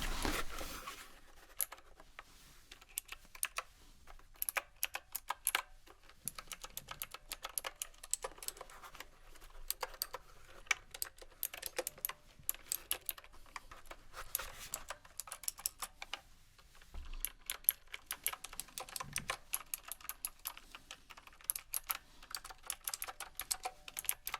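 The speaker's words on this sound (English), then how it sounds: "So you've got quite an expensive keyboard, typewriting keyboard here, right?" Fingers type on an expensive typewriter-style keyboard with clicky keys, producing a fast, continuous stream of close, crisp key clacks with brief pauses and no talking.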